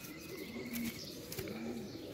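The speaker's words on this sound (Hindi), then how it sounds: "बहुत पड़क रहा है कबूतर।" Kasuri pigeon cooing in soft low repeated calls, with faint wing fluttering and chirps close by in a quiet setting.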